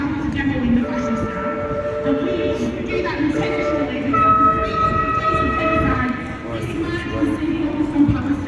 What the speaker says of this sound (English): Sorry about these trams.